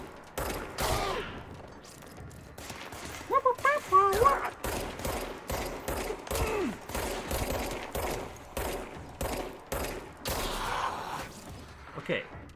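Gunfire in the video game Control: bursts of rapid shots and single cracks, loud and repeated over several seconds, with a voice talking between them.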